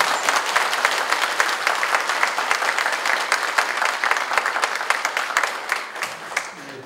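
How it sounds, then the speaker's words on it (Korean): Congregation applauding at a church choir's 100th anniversary thanksgiving service in Busan, a dense, steady wash of many hands clapping together, close and loud throughout, thinning slightly near the end. "박수로 한 번."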